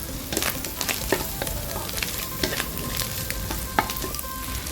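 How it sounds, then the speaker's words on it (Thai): Chinese cabbage stir-fried with glass noodles in a home-style pan, crackling sizzle broken by sharp spatula clacks and scrapes at irregular intervals, close and moderately quiet, no talking. "ลงผักกาดขาวลงไปเลยค่ะ แล้วก็เราก็ผัดผักกาดขาว ไปสักพักหนึ่งนะคะ"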